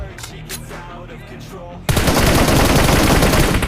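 Gunfire in PUBG Mobile erupts as a loud, sustained burst of rapid shots midway through, following quieter game ambience with faint background sounds.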